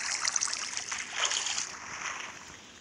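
Water running in Minecraft while an aquarium is being built, a soft, continuous trickling and splashing flow heard up close, with no voices over it.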